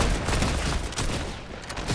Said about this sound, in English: Claire, shoot him. Shoot him, shoot him